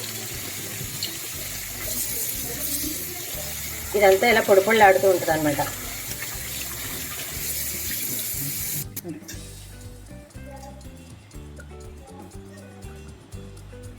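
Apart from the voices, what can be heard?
cold water poured into semiya (vermicelli) for upma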